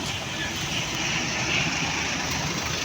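An airplane passes overhead near Magsaysay Park in Davao, Philippines, a steady broadband engine roar that holds for the whole moment with no talk over it.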